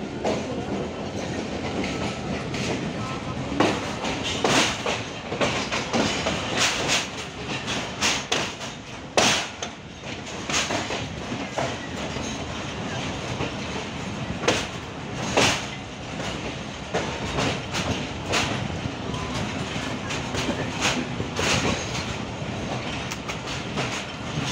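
Khyber Mail train rolling into Multan Cantonment railway station, a steady rumble of carriages with repeated clickety-clack wheel beats and sharp clanks recurring throughout, close and continuous with no talking.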